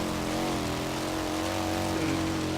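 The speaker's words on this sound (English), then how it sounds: "Yeah, it's just a Morgan three-wheeler." A Morgan three-wheeler in Forza Horizon 3 drones along off-road, its engine giving a steady buzzing hum with slight pitch wavers, sustained and fairly close throughout.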